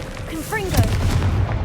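Confringo, an explosive spell in the video game Hogwarts Legacy, goes off in a short booming blast with a rumbling tail, heard alongside brief voice-like sounds.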